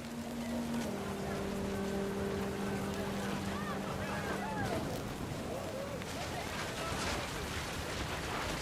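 In the video game What Remains of Edith Finch, rain and wind make a constant hiss under a narrator's voice, with some tonal sounds in the middle.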